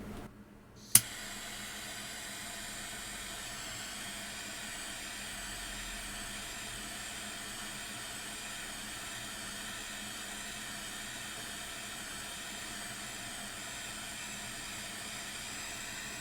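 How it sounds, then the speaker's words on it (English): A torch heating liquid shellac lights with a sharp click and then roars with a steady, even hiss that carries on alone for the rest of the time. "So let's get the torch out"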